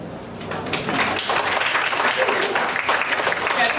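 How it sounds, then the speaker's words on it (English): An audience at a book launch in Singapore claps in a dense, continuous burst of applause, bright and close, with some voices mixed in beneath the clapping. "Round of applause."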